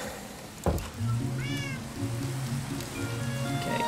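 A Minecraft cat meows clearly several times in the game, with the meows coming at irregular intervals. Steady rain on surfaces and low background game sounds play underneath.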